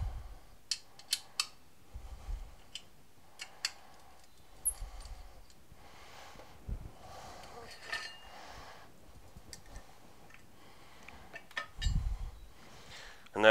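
Allen keys turning and clinking against metal as a leg is unbolted from an Abba Skylift motorcycle ramp lift, with scattered sharp ticks and clicks, occasional scraping and a louder knock near the end.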